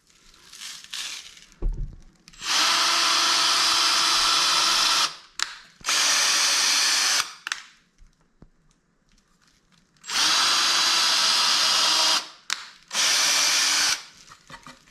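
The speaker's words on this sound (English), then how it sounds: "And this is when you want to use your drill." A power drill driving screws whirs loudly in four bursts of roughly two to three seconds each, separated by short quiet gaps with faint handling noises.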